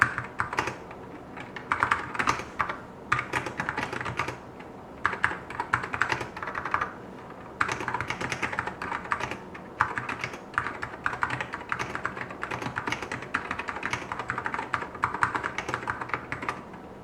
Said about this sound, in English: let's have a quick typing test.